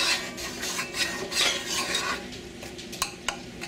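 A spoon scrapes steadily around a pot of flour and oil roux in brisk, rhythmic strokes over a light sizzle, followed by a few sharp clinks of utensil on metal, close up and with no talk.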